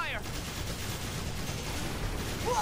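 Ether cannons fire in Granblue Fantasy Relink during an airship battle, a dense, steady barrage of crackling shots under a loud continuous roar, with brief whooshing sweeps at the start and end.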